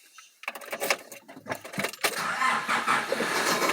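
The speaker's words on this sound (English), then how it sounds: "let's see if this car starts up" A car engine cranks with a few uneven bursts, then catches and settles into a steady, loud running roar, close by and with no talking.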